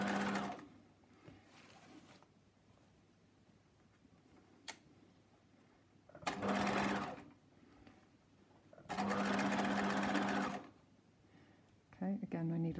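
A sewing machine stitches a coat lining in two loud, close bursts of a few seconds each, with quieter handling clicks and a speaking voice in the gaps between runs.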